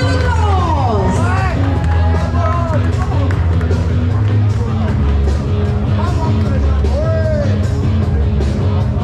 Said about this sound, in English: Come on, let's have a round of applause!